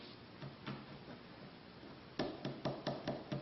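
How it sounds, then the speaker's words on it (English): Poly sheeting is peeled away from cured epoxy paste filler in quiet, close crackling rips and a quick run of sharp ticks toward the end, faint overall and with no voices. "I'll just peel off the poly sheeting"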